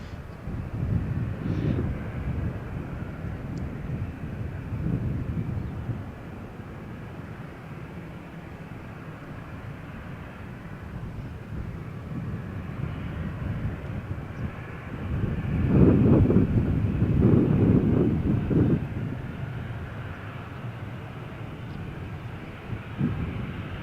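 An airliner takes off from runway 13 at Malaga Airport on a stormy morning, its jet engines rumbling at a distance under wind noise and swelling to a louder roar in the later part.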